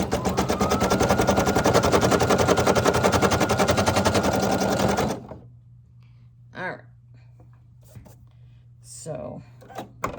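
Embroidery machine stitching a logo onto a T-shirt, a loud rapid mechanical chatter of needle strokes lasting about five seconds before stopping, leaving a low hum and a few faint clicks and handling noises.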